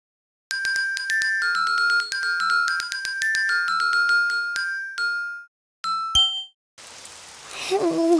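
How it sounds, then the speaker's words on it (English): Rain falls outside in a cartoon scene: a bright chiming jingle of bell-like notes plays first, then gives way to a steady, close broadband hiss of rainfall for the last second and a half. "Oh, it's raining outside."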